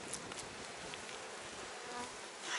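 Honeybees crawl over the frames of an opened, warmed beehive, giving a steady faint buzzing hum with occasional closer wingbeats passing by.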